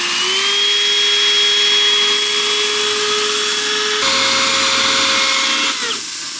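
A power tool standing in for a shop CNC machine whines steadily at a high, constant pitch, close and loud, shifting to a different tone partway through before spinning down.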